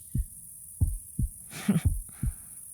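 Heartbeat sound effect in an audio drama: five slow, steady low thumps, close and muffled, with a brief rustling noise partway through.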